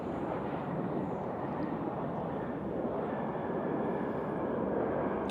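An airliner from LAX arrives at Nashville International Airport, its jet engines a broad, sustained roar that holds steady and close throughout, with no speech over it.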